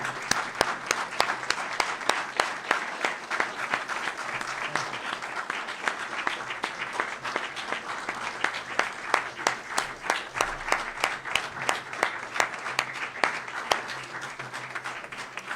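A round of applause from a limited number of people in a room at a county ceremony honoring a local ambulance corps, with sharp individual claps in a steady patter throughout the fifteen seconds and a few faint voices underneath.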